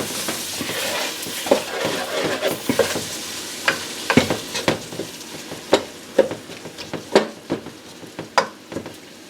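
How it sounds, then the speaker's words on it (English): A pot of gluten-free gumbo cooking on the stove, with a low sizzle underneath and repeated scraping, clinking stirs of a spoon against the pot, close and moderately loud, no talk. "I'm just going to have to cook this down for a little bit."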